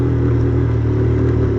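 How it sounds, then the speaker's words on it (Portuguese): Motorcycle engine idling roughly and misfiring, a loud, close, continuous low rumble with uneven stuttering pulses across a brief stretch, no talk. "Olha a moto falhando."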